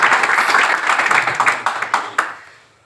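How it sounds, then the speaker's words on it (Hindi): A short burst of applause from a small group, lively clapping that quickly thins out and fades to silence. "एक बार तालियां हो जाए सर के लिए"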